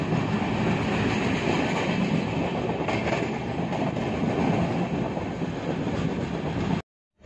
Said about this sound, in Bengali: নিজের ধীমি গতিকে আস্তে আস্তে বাড়িয়ে নিজের গন্তব্যের দিকে ছুটে চলেছে আমাদের ট্রেন